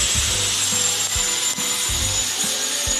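Sandpaper rubbed by hand over a wooden table to smooth it, a steady gritty hiss with rhythmic back-and-forth strokes about twice a second, close and continuous.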